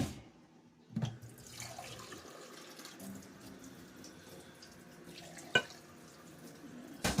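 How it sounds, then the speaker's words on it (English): Water pours from a tap into a blender holding coconut in a kitchen, a soft steady trickle with a few louder splashes and clinks, close by and fairly quiet, with no talking over it. "I'm going to put a little more water."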